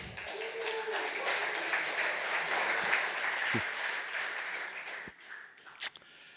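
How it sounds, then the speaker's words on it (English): Warm applause from a conference audience welcoming a speaker on stage: a sustained, even roar of many hands clapping that thins out toward the end, with a few isolated claps and taps. "Please give a warm round of applause."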